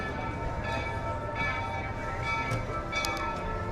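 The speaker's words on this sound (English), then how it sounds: "You could hear the Walt Disney World Railroad behind me off in the distance." A Walt Disney World Railroad steam train rolls along at Magic Kingdom, far off, its bell ringing faintly and repeatedly through steady outdoor park ambience.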